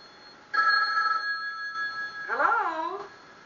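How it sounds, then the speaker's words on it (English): An old-style telephone bell rings in a steady burst in a quiet indoor scene, followed by a voice that briefly overlaps the end of the ring. "There's my phone."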